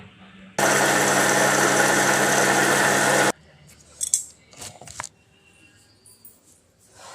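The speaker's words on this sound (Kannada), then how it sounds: "ಅದ್ರ ಜೊತೆಗೇನೆ ಅಕ್ಕಿನೂ ಸೇರಿಸ್ಕೊಂಡು ನಾನು ರುಬ್ಕೊಂಡ್ಬಿಡ್ತೀನಿ" A wet grinder churns soaked urad dal and rice into idli batter, giving a loud, steady whirring drone for a few seconds before it stops. Softer clatter and handling noises follow.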